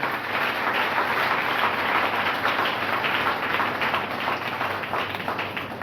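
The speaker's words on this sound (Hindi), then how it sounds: "जोरदार ताली इसके लिए बजाएं।" A congregation at a Sunday sermon claps loudly and continuously, a dense, rain-like roar of hands that stays steady throughout.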